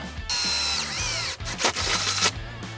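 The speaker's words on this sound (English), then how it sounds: "I'm gonna mark the hole, and that's where I'm gonna drill." A power drill whines loudly at high speed, slows and dips briefly, then runs again in short bursts before stopping, drilling a hole while fitting a spin lever retro kit.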